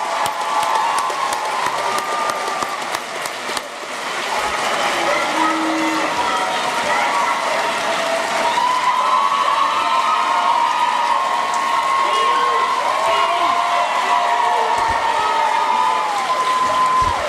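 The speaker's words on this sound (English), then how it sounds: "let's give them all a big round of applause" Graduation audience at a Huxley College of the Environment ceremony breaks into sustained applause with some cheering, a broad crowd roar that carries on steadily, with voices mixed in.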